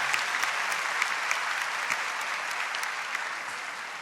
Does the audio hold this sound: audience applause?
yes